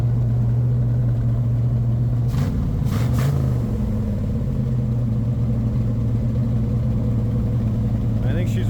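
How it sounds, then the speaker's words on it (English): A 1977 Pontiac Firebird engine idles a little high with a steady, even, low drone that stays close and constant throughout, briefly disturbed partway through by a few clicks or knocks. "It's idling a little high, but it's hardly not even smoking anymore."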